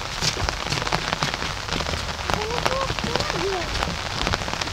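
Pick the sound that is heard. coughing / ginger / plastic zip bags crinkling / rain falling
rain falling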